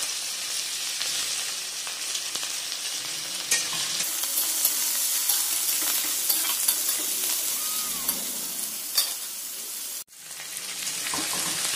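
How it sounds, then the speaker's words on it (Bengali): Sliced onion and capsicum with chopped garlic fry in a pan, giving a loud, steady sizzle with scraping stirs throughout and a brief dip in the sound near the end. "জাস্ট মোটামুটি একটু ভাজা হচ্ছে"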